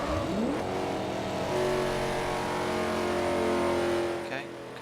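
Nissan Skyline race cars in the Forza 5 video game roar along the track, engines droning loudly with rising revs and shifting pitch, while a voice talks over them.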